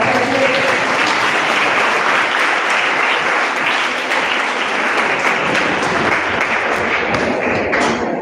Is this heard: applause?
yes